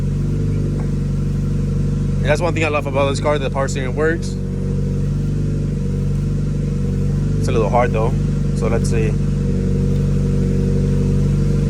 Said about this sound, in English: All right, it's idling way better than yesterday.